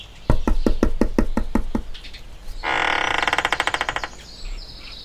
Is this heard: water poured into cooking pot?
no